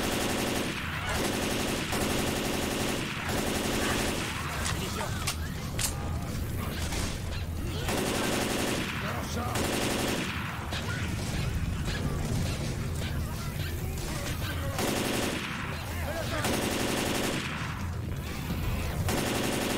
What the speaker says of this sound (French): Arme à feu.